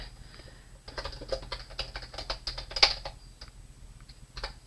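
Keys clack on a computer keyboard in quick irregular bursts, close and fairly quiet, with a brief louder cluster partway through and no talking.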